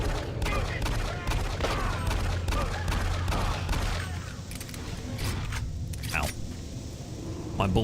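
Rapid gunfire from DOOM 3, dense repeated shots rattling in a steady burst under ongoing game noise and a talking voice, easing off toward the end.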